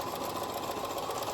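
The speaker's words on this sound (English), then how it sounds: "My loud sewing machine. It was probably purchased in 1962." A loud old sewing machine from around 1962 runs steadily, its fast mechanical whirring and rhythmic needle clatter close and continuous.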